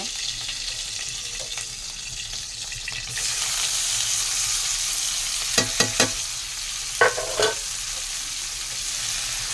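Onion, tomato and green chilli frying with dried fish in a pan make a soft, continuous sizzle, broken by several sharp scraping stirs of a spoon against the pan in the latter half, with no voices.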